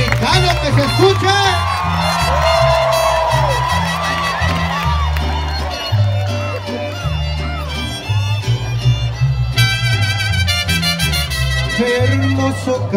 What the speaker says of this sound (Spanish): Y a ver ese grito mexicano que se escucha.